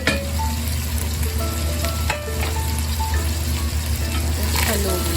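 Onion and camel meat fry for kabsa rice, a continuous loud sizzle with stirring scrapes and clinks throughout, close up.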